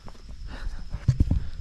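Horse hooves clip-clop on a woodland path in Asheltor Woods, several close, heavy thuds in an uneven cluster near the end, with soft rustling before them.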